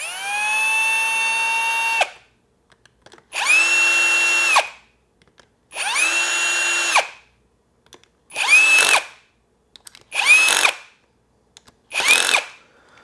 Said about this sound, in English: grab the drill, tighten them down one by one, but not all the way